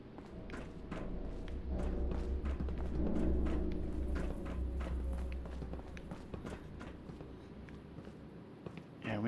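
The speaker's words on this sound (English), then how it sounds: "But those footsteps kind of sound like they're up top." In the video game Fallout 76, rapid thudding footsteps run steadily over a low rumbling background, loudest in the middle and easing off toward the end.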